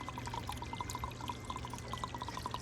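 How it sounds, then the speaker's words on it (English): Worm tea pours back into the top of a wormiponics tower, a steady trickling stream with rapid bubbly drips, fairly faint and close, with no talking over it. "I'm going to pour it back up here where the microbe should be"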